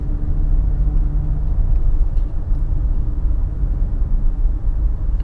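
A 2017 Mazda CX-5 rolls through a series of curves, giving a continuous low rumble of engine and tire noise from inside the cabin, steady and fairly loud with no talking.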